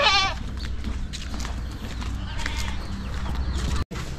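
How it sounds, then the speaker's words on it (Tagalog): A long-horned goat bleats in a short harmonic call right at the start while it is being tied up beside a vehicle, followed by steady outdoor noise, shuffling and scattered handling sounds. "Itatali na po nila yung kambing."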